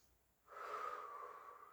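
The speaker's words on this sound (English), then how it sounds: "Breathing deeply." One deep breath during a yoga side-body workout, a single long, airy inhale that rises after a short quiet moment and holds steady, close and soft.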